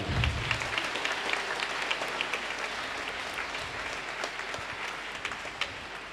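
Congregation in a church shrine at a Maundy Thursday service gives sustained applause, a thick crowd of clapping hands that swells at first then continues steadily, slightly fading toward the close.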